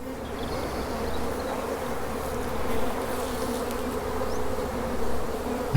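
Honey bees buzzing around an opened hive frame during a colony split, a dense steady drone close to the microphone that persists throughout without talk.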